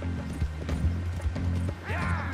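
Horse hooves clip-clop in the Red Dead Redemption 2 video game, a rapid rhythmic run of close, distinct hoof thuds, ending with a horse's whinny.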